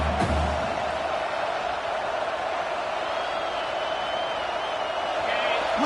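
Stadium crowd roaring steadily through the Texas vs Oklahoma Red River football game, a dense, sustained wall of massed cheering and noise with no pauses.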